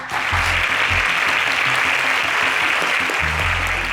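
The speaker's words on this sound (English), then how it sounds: "A round of applause for them, please." Audience applause at an agricultural science quiz show, loud steady clapping filling the whole stretch from start to finish with no talk over it.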